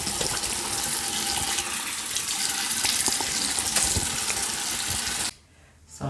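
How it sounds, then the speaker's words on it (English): Tap water gushes steadily into a sink while a face is rinsed, a loud close hiss that cuts off abruptly near the end, leaving near silence. "So I just rinse my face off"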